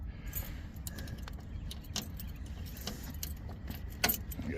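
Keys jangle and clink close by in the ignition of a boom lift machine, bright metallic rattles scattered over a quiet low rumble, with a sharper jingle near the end.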